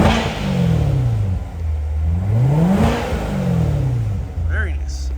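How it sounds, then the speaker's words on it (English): A 2019 Chevrolet Corvette 3LT with a 460-horsepower engine revs up and drops back a couple of times over a steady idle rumble, loud and close. "I'm gonna give a couple revs for you guys."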